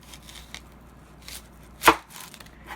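One sharp knife chop lands on a cutting board as food is cut down the middle, a single close thud standing out against a quiet background with faint handling noises.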